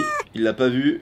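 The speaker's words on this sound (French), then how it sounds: "il y a un chat derrière lui," A cat behind a parcel delivery man gives a short, high, falling meow-like cry, immediately followed by someone speaking French over the scene.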